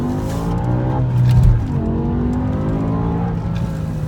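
A tuned BMW E60 M5 with a Dinan intake, tube exhaust and stage 3 tune revs hard and accelerates, its engine roaring loud and close in one continuous pull that swells around the middle.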